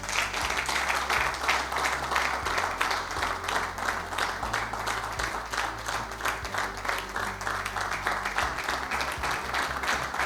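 Audience applause at an essay competition prize presentation, honoring the finalists: steady, dense clapping from a sizeable crowd that holds for the full stretch without a break, with a low hum running underneath.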